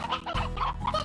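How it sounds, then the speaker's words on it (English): Stony hens and roosters in the Slime Rancher video game clucking in a quick, close run of several squawky calls. "Up here we have our stony hens and our 2 roosters"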